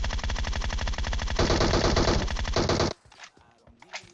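A long, loud, continuous burst of automatic rifle fire in PUBG Mobile, about three seconds of rapid rattling shots that stop abruptly, followed by faint scattered game sounds.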